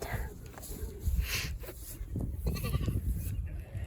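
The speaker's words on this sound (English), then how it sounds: "Look at that cute goat." A goat bleats a few times at close range on a farm amid shuffling and rustling, with a person speaking softly in between.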